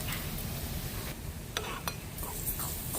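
Coconut, pepper, cumin and whole spices roast in a pan, a faint soft sizzle with scraping stirs and a few light utensil clicks on the metal.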